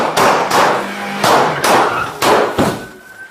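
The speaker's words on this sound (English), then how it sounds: "Shots fired!" Gunshots during a police standoff with robbery suspects: about six sharp, loud bangs in quick, uneven succession, each ringing out briefly, heard up close.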